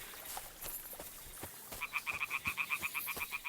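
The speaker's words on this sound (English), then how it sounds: "And frogs. I think. Sound like frogs." Frogs croak in Kingdom Come Deliverance 2, a steady run of quick, evenly paced croaks that start partway through over a soft outdoor ambience, fairly close and moderately loud.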